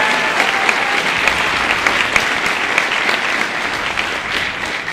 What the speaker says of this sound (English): So big round of applause, Cochran